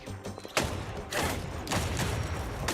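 Video game gunfire in Silver Palace: a few sharp, mid-loud shots and bursts in quick succession, with a low thump between them.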